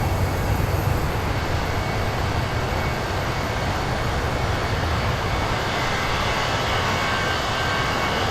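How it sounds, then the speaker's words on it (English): Airbus airliner jet engines roar in a steady, loud, broadband drone from inside the cabin during a slow climb out, continuous with no talk. "Love the sound of them engines."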